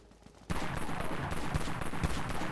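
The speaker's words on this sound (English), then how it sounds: "You can see the fire rate is different with the Commander 10." Commander 10 shotgun in the game Dead Frontier firing a rapid run of loud, close blasts that begin abruptly after a short quiet start and repeat steadily with no talking.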